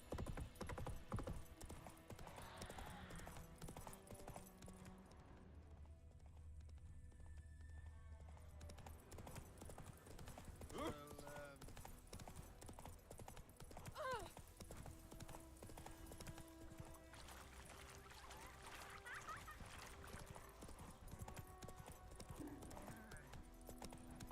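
Roach the horse galloping in the video game Witcher 3, rapid rhythmic hoof clip-clops running throughout, with a brief neigh and faint background hum.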